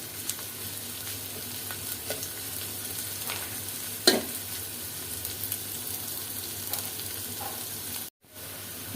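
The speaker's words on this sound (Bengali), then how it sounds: "রসুন পেঁয়াজ ভাজা হয়ে গেছে খুব সুন্দর একটা ফ্লেভার বের হয়ে গেছে" Onion and garlic frying in a pan for a Bengali pui shak dish, a steady soft sizzle with occasional stirring scrapes, fairly quiet and continuous, cut off briefly near the end.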